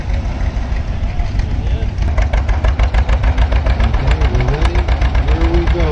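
A John Deere D tractor idles at a tractor pull, its engine thumping in a loud, steady, rapid rhythm up close, with voices talking over it.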